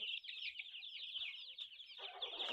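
A flock of tiger chickens on a poultry farm clucks and chirps continuously in a dense overlapping chorus, with a burst of louder scratchy rustling near the end.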